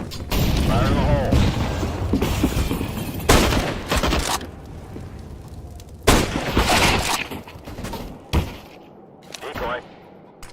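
In Counter-Strike, a thrown grenade detonates among bursts of gunfire: several loud, abrupt blasts separated by quieter gaps over about ten seconds, with voices mixed in.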